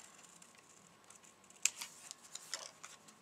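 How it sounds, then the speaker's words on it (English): Scissors cut out paper leaves for a handmade card: faint, sparse snipping clicks that start about halfway through, each short and sharp against a quiet background. "The leaves are kind of hard to cut out."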